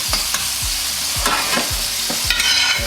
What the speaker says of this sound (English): now the butter's melting, you want to tip your pan a little bit, and we're gonna start basting it with a little bit of butter.